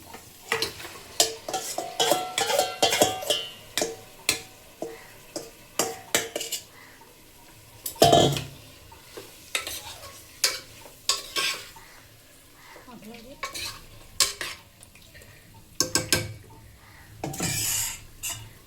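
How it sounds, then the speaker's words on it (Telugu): Marinated mutton hits hot oil with fried ginger paste in a pan for mutton dum biryani, giving a steady sizzle broken by repeated sharp scrapes and clanks of a spoon stirring against the pot, close and fairly loud. "అల్లం పేస్ట్ అయితే బాగా ఫ్రై అయిపోయిన తర్వాత మనం మ్యారినేట్ చేసుకున్న మటన్ అయితే వేసేద్దాము"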